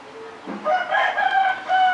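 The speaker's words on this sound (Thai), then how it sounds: "ที่บ้านข้างบ้านนี่เลี้ยงไก่กันเยอะครับ เสียงดังไปหน่อย" Roosters from a neighbouring household's flock crow loudly and close by in long, drawn-out calls that overlap one another, with no talk.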